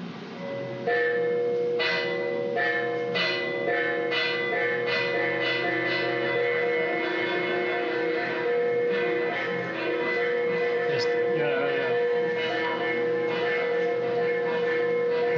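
Large fixed church bells and small swinging bells in Mexico ring together in a dense, continuous peal, loud and steady throughout with overlapping struck tones.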